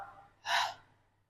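A single sharp breath drawn in during a pregnancy exercise workout for the first and second trimesters, a short loud airy gasp close to the mic in a quiet room.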